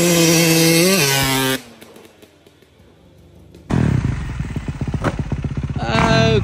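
Motorcycle at a backyard freestyle ramp session, its engine revving loudly nearby, falling quiet for a couple of seconds, then roaring back as it makes a flyby; rising and falling throttle with a rough, rattling tone.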